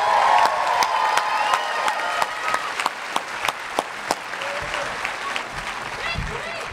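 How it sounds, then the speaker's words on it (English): Graduates at a university commencement ceremony applaud and cheer, with a dense wash of clapping and occasional whoops from a large crowd, fading somewhat toward the end while a few voices carry over it. "Give yourselves a round of applause."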